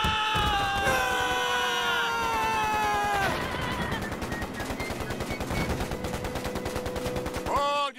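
Sustained automatic gunfire in an animated comedy battle scene, a long rattling volley running almost the whole time, with voices yelling and screaming over the start and a sliding whistle-like tone near the end.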